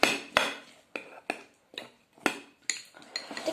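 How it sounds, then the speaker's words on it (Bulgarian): Chopped apple is stirred in a dish for a dessert, a series of close metallic clinks and scrapes of a utensil against the bowl in a loose, uneven rhythm, with no talking. "Разбърквам просто ябълката да ми седи на върха."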